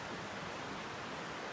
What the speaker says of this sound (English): try and share with you an absolutely spectacular waterfall